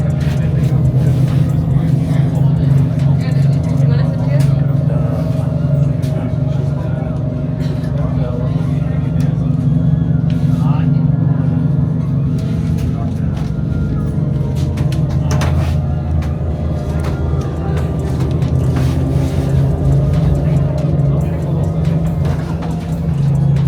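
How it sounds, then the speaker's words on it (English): A bus pulled by a tractor drives over the sand at Grenen beach in Skagen, Denmark, giving a steady, loud low engine drone with rattling and rumble that runs the whole time, while people talk inside. "So tractor has started moving, guys."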